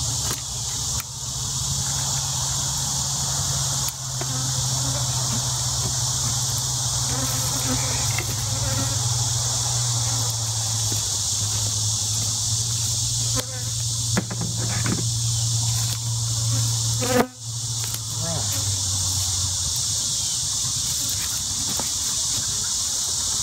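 A steady, dense buzzing of many honey bees at a hive fills the whole stretch, with a low droning hum underneath and a brief sharp knock near the end.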